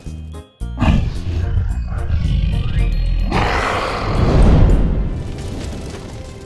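Loud cartoon dragon roars as it scorches sticks on the ground with fire, a dense rumbling roar sustained for several seconds and swelling near the end, with a booming crackle of flames beneath.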